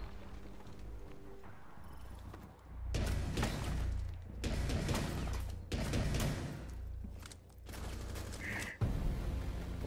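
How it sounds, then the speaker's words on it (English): Bursts of rapid gunfire from a favourite weapon in Rainbow Six Siege, several loud sustained volleys with short pauses between them, each dense with overlapping shots, close and dominant over faint background game sound. "Love that gun."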